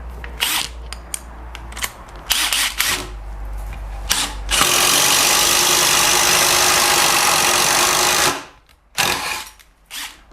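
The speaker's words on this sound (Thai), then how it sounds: "สำหรับในงานเจาะ ไม้ประมาณเนี้ยไม่มีปัญหาอะไรนะครับ" Kyocera cordless impact driver fitted with an Onishi bit boring into wood: a few short whirring bursts give way to a loud, steady drilling whine lasting about four seconds, then two brief final spurts, close up with no talking.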